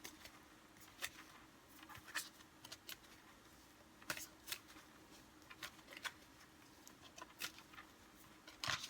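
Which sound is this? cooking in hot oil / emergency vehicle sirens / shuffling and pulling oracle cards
shuffling and pulling oracle cards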